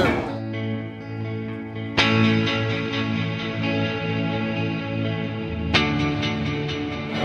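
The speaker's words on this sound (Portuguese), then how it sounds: "quando você vai para os mais agudos vem uma cama cheia de pitch e muito mais presente, somado também a um chorus" Electric guitar played through a Mooer effects pedal. Its strummed chords ring out with a full, pitch-shifted pad and chorus shimmer. Two fresh strums fall about two seconds apart and sustain loudly, and no voices are heard.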